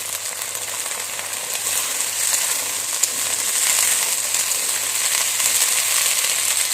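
Bitter wild eggplants frying in a pan, a steady hissing sizzle with fine crackles that holds evenly and close throughout, with no talk.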